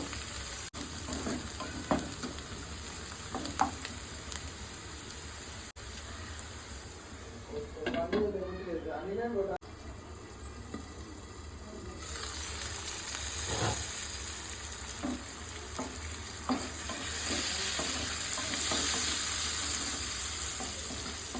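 Onions with turmeric and salt frying in a pan, a soft continuous sizzle with intermittent scrapes and taps of stirring, and a brief burst of louder hissing midway; speech is faintly present at times.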